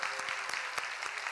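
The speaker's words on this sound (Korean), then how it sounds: "우리 박수로" A church congregation applauds a children's choir at an early-morning special prayer service. The applause is soft and distant, an even wash of clapping with a few sharper claps standing out.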